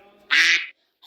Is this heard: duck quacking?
yes